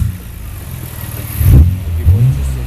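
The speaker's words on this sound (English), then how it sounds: "Just want to do a quick engine test for you guys," A Nissan R32 GT-R engine idles close by during an engine test, then is blipped into two short, sharp revs before settling back to idle.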